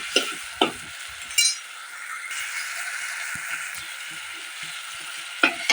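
Sardine curry ingredients sauté in a pan with a steady sizzle, punctuated by a few sharp clinks and scrapes of a spoon stirring against the metal.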